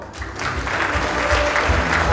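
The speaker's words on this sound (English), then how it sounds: "please give them a round of applause" Audience applause for a keynote speaker at the Shimadzu Global Pharma Summit 2017, a dense steady wash of clapping filling the whole moment.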